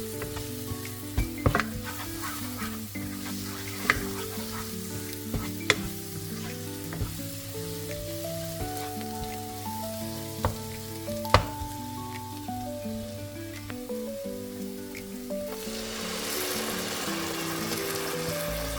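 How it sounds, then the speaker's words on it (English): Curry paste with tomato paste sizzles steadily as it fries in a pan for a beef and potato curry, with occasional sharp clinks and scrapes from stirring and a louder bubbling hiss toward the end. "And cook the paste for about 2 to 3 minutes."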